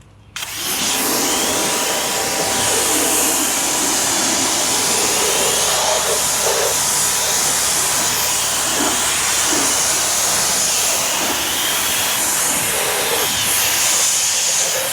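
A pressure-washer water spray rinses a car wheel and tire, a loud, steady hiss that starts abruptly and runs unbroken, close to the mic, with no talking.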